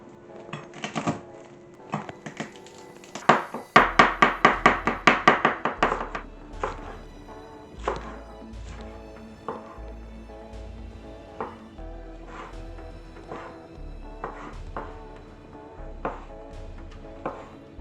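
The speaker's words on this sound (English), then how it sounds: "dice some roasted red pepper, cut some olives into rings, cut some baby corn into quarters, and mince some garlic" A knife chops on a cutting board through roasted red pepper, olives, baby corn and garlic, with close, crisp taps in irregular bursts and a rapid flurry of quick strokes partway through.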